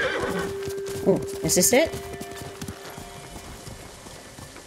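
A horse in Ghost of Tsushima snorts and whinnies while its hooves clip-clop along, moderately close, with a player talking over the sounds.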